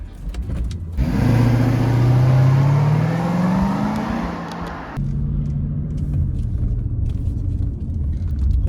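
A 1992 Mercedes 500SE W140 with a 5-litre V8 pulls away hard, the engine note climbing through the gears before settling into a steady cruising rumble, heard from inside the car.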